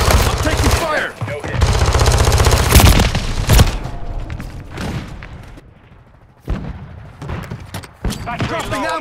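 Gunfire in a Call of Duty: Modern Warfare III multiplayer match, loud bursts of automatic fire and sharp shots in rapid succession, close and dense, with a voice speaking over the battle.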